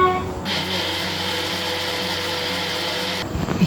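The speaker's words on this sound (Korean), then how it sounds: "그래서 이 믹서기는 저쪽 방에 가서 얼른 하고 오겠습니다." A kitchen blender purees homemade baby food. It starts abruptly into a loud, steady motor whine that holds for about three seconds and then cuts off, with quiet room tone before and after.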